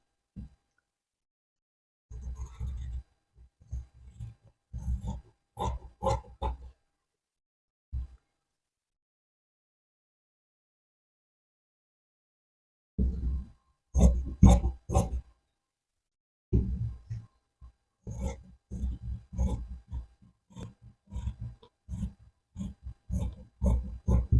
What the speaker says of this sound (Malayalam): അപ്പോൾ നമ്മൾ ഇത്ര അടയാളപ്പെടുത്തി നമുക്കിത് കട്ട് ചെയ്തെടുക്കാം.